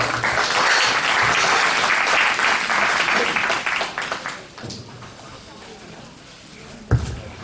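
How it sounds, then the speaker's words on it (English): Audience applause at a 4-H/FFA livestock show for two novice showmanship competitors, sustained loud clapping that fades after about four seconds, followed by quieter room noise and a single sharp knock. "Let's give them both another round of applause."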